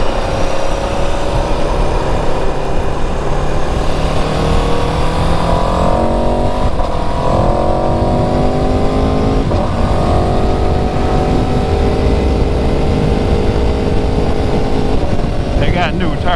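Aprilia 1100 Factory motorcycle engine roaring loudly and continuously while riding, with rising and falling revs as it accelerates and shifts, steady wind noise throughout.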